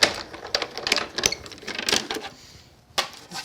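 Card for a floating frame greeting card rolls through the rollers of a crafting die-cutting machine, giving a string of close, dry clicks and light bumps with a brief quiet gap before a final clack.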